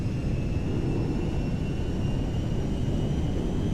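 Embraer jet engine spooling at full takeoff power in GTA 5, a steady loud broadband roar with a faint high whine running through it, continuous and unbroken throughout.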